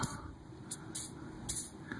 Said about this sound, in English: I think I'm just spraying. Whatever, just soak the whole thing.